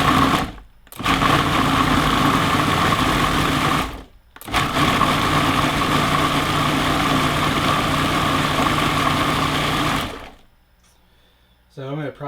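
Food processor grinding roasted vegetables for salsa, a loud steady motor whir in two long runs separated by a brief pause, then stopping into near silence with faint movement.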